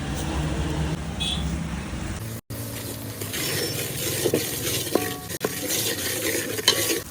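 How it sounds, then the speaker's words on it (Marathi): Curry leaves and salt go into a pan of dal cooking over a wood-fired stove, giving a steady, close sizzle with spoon scrapes and light metallic clinks of stirring. "नंतर टाकतो आपण कढीपत्ता त्यानंतर टाकतो आपण चवीनुसार मीठ"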